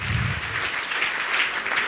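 An audience breaks into loud, dense applause for an honoured guest at an event, a steady wash of many hands clapping at once with no break.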